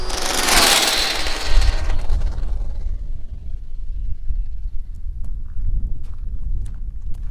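A Traxxas Slash 4x4 RC car, built for speed runs, makes a full-throttle pass. A loud rushing burst comes close in the first couple of seconds, then fades into rumbling outdoor background.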